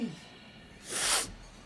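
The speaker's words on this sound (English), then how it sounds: "that was a big sneeze" One big human sneeze bursts out loudly after a quiet breathy intake, a single sharp blast of hissing noise in a calm indoor setting.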